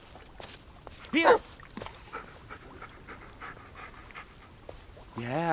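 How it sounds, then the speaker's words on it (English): A dog in the Blair Witch video game pants and gives a short whimpering yelp, with faint game sounds and footsteps around it and a louder burst near the end. "Yeah, good dog."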